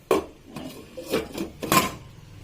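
A lid goes onto a cooking pot after salt is mixed into a wood apple tamarind rice dish, a few close metallic clinks and knocks of metal on metal, alone without talk.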